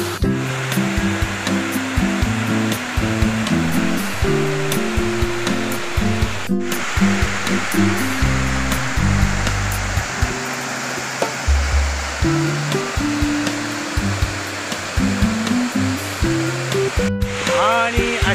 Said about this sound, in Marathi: वॉटरफॉलला पोहोचलेलो आहे.